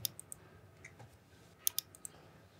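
Several sharp, quiet mouse clicks on a computer while creating renders in SketchUp AI, scattered singly and in quick pairs over a faint room hum, with no talking.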